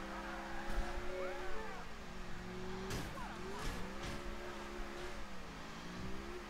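Game car engine in GTA IV driven roughly, a steady revving drone with shifting pitch and brief tire squeal or skid bursts, continuous and fairly close throughout.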